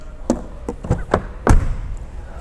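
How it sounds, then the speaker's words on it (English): Heavy doors of a 2025 Audi Q7 facelift SUV shut in a series of short, solid thuds, about six separate closes spaced a fraction of a second apart, the last one loudest and deepest. "this has to be the best door sound I've ever heard"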